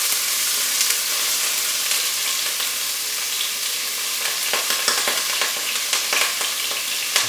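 Chopped onions sizzle in a generous pool of olive oil for a tomato marinara, a continuous close hiss growing busier with crackles and light pops toward the end.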